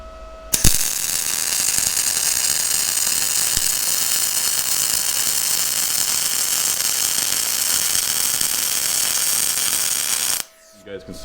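An Arccaptian MP250 MIG welder lays a bead using the push technique, giving off a steady, loud, dense crackle and sizzle that runs unbroken for about ten seconds before cutting off abruptly.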